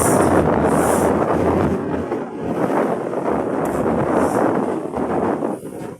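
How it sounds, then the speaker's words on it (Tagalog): Strong wind roars and buffets steadily across the microphone, a dense continuous rush with gusting swells and no speech. "ang lakas ng hangin dito"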